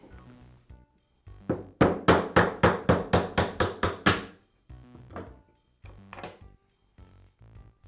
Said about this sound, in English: I'll use a socket to tap the bearing out of the cup.